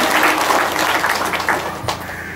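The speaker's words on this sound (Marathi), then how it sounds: "भगवंताला टाळ्या वाजवून धन्यवाद देतो" An audience breaks into loud, sustained applause, dense clapping that holds steady and then slowly tapers off, with no speech over it.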